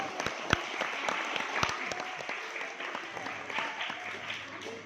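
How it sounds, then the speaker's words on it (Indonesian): A crowd claps steadily at an Islamic boarding school celebration of Santri Day and the Prophet's birthday, sharp individual claps standing out over a dense wash of applause that carries on throughout. "Kasih tepuk tangan."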